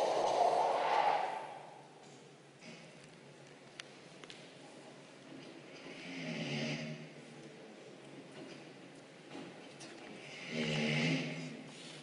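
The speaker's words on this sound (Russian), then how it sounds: "Это громко считается, он храпит, или это тихо?" A man snores in a quiet room, with a few drawn-out breathy snores spaced several seconds apart. The snoring is at moderate, fairly soft volume and nobody talks.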